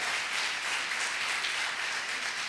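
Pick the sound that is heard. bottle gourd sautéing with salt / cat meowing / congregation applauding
congregation applauding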